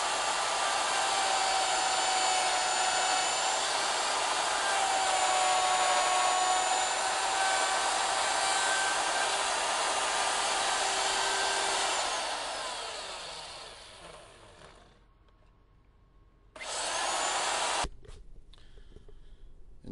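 A router cuts the contour and jack cavity of a wooden guitar body, a steady loud high whine that runs unbroken for about twelve seconds, then winds down to near silence before a brief final burst.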